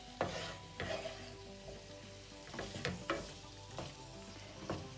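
Spicy potatoes and peppers being stirred through a seasoned sauce in a pan, with a spoon scraping and knocking at a steady, unhurried rhythm over a soft, close sizzle.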